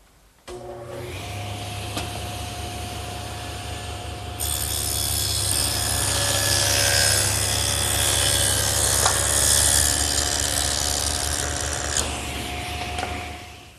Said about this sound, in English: run a groove between the two mortises so that it'll accept our panels